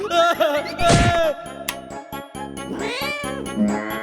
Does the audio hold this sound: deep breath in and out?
no